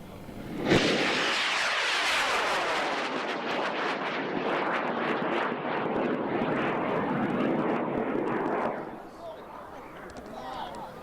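An Intimidator 6 model rocket launches at a rocket club meeting: a sudden ignition burst becomes a loud, sustained rushing roar for about eight seconds, then cuts off into quieter background sound.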